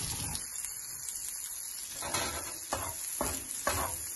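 Butter sizzling as it melts on a hot chapati griddle stone, a steady soft hiss with a few brief louder scraping or stirring sounds, moderately quiet and close, with no voices.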